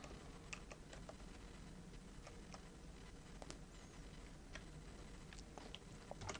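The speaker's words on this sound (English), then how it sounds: "now I'm just going to type some numbers, separating each number with a comma" Light, quick keystrokes on a computer keyboard as numbers go in one by one, soft and close with an irregular patter over quiet room hiss.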